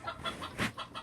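Wild chicken on a cattle farm, a few soft, quick clucks in a row, faint and close, with no voices.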